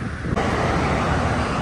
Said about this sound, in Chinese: 小溪流